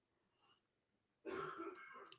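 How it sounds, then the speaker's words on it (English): A faint rasp, then a loud, rough cough with throat clearing that carries on for about a second, heard close up with no talking. "He's got a bad cough."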